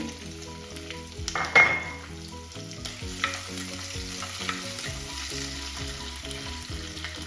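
Curry leaves and garlic sizzling in hot frying oil, a steady crackling hiss running throughout with a sharp burst of spitting early on and occasional clinks of a utensil against the pan.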